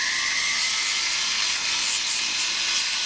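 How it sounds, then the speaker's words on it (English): A small sanding disc smooths the filed back of a handmade metal earring before soldering. It makes a steady, close, high whirring hiss that runs unbroken throughout. "I'm also going to take a little sanding disc here and just go over this"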